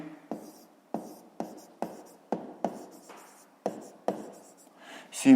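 Pen writing on paper during a fifth-grade maths exercise, a series of about ten distinct strokes in a steady rhythm, close and fairly quiet, with no talking.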